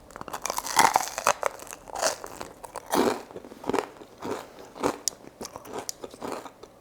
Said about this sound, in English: It's really nice and crunchy.